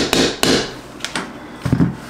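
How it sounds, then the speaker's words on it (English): A small plastic hammer taps a pin into a Beretta Px4 pistol, giving several close, sharp knocks in small uneven clusters over about two seconds. "Take your little plastic hammer, push it in."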